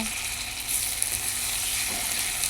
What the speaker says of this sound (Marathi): कांद्याचा कलर बदलायला लागला ते त्यामध्ये चिरून ठेवलेला टोमॅटो घाला परता